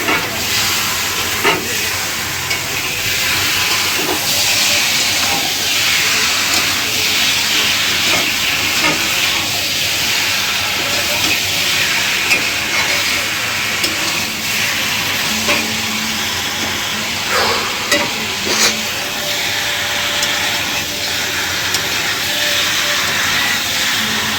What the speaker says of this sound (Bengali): এবার আমি চিকেনটাকে কষতে পারি